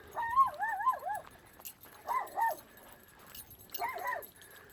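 A dog inside a parked RV at a campground gives three short bursts of barking and whining, heard from just outside. Each burst is moderately loud, and quiet gaps separate them.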